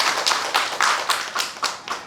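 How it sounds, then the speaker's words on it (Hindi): An audience claps for Brundaban Majhi at a Biju Janata Dal joining event in Sambalpur. The claps come in loud, fairly even bursts about every quarter second, with no voices over them. "श्री वृंदावन माझी महोदय आमे ताको करताली सहित स्वागत करूछु"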